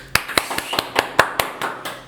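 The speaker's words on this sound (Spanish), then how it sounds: "Un aplauso para Juan Pablo" A small studio audience at a talk show claps for a guest: about eight crisp, evenly spaced hand claps, close and clear, with little else behind them.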